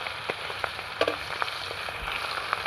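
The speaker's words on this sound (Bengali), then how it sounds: "এরকম লাল লাল হলে মাছগুলো ভেজে তুলে নেব।" Large pieces of pangas fish fry in hot oil in a pan, giving a steady close sizzle with soft crackles and occasional pops that continue unbroken.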